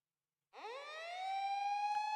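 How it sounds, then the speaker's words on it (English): Air raid siren in the Fate/Stay Night visual novel, a single rising wail that starts abruptly, climbs in pitch and then holds a steady loud tone, with no talk over it. "The air raid sirens are going off."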